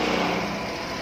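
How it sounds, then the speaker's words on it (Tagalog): A small motorcycle engine runs just after a kick start, a steady high-pitched buzzing drone that stays close and fairly loud throughout, with no voices. "Pero naandar po ito sa kapag kick starter ang gamit natin."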